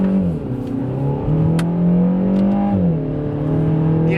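A 2022 Kia Forte GT with a 200 horsepower engine and seven-speed dual clutch transmission accelerates in sport drive mode, its engine note rising and then shifting in loud, close steps through the gears.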